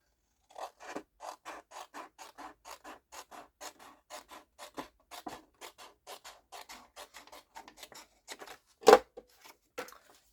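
Scissors cut through paper in a long run of about thirty crisp, regular snips, close and alone, with one louder, sharper cut near the end.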